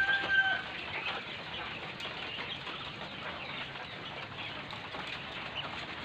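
Quails call on a quail farm, making a faint, dense chorus of small chirping and clucking calls that runs steadily with no pauses.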